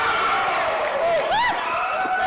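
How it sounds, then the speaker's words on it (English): Loud, close crowd at an FWE Reload independent wrestling show roaring and cheering during a tag-team match, with sharp whoops and whistles rising over a continuous din. "our great crowd here for FWE Reload coming alive for Amy Love"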